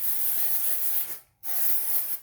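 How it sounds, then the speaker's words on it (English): Aerosol hair spray misted into the roots of curly hair, a steady close hiss lasting about a second, a brief pause, then a second equally loud burst. "And then just spray it right in at the roots."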